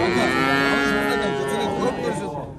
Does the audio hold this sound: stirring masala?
no